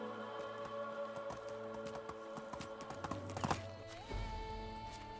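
Horse hooves clip-clop at a steady riding gait in the medieval village game Medieval Dynasty, an even rhythm under soft game ambience and background music tones.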